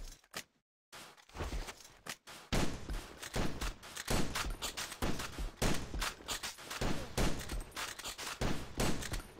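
Rapid gunfire from jump shots in the shooter AVA, with a brief silence at the start and then dense, loud bursts of shots and impacts that carry on almost without a break.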